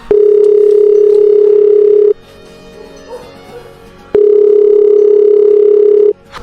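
A loud, steady telephone ringback tone sounds while someone is being called from the forest during a wood pigeon hunt in the Tarn, France, with two long tones separated by a pause of faint background noise.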